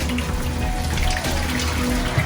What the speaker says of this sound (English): I get my kettle boiling hot water. I put my hot water in here.